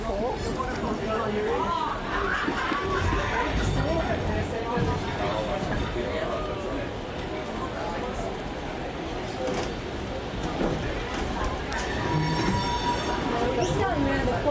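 Train rounding a fairly steep bend near a waterfall, with sustained wheel squeal and rumbling carriages heard up close, steady and loud throughout, while people talk over it.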